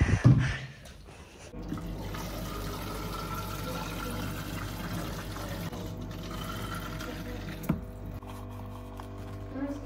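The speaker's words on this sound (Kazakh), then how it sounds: "Қазір мынандай спорт деген бутылкаға су құямыз." Water poured into a sports bottle runs as a steady, continuous fill for several seconds after a short clatter at the start, fairly close and moderately loud.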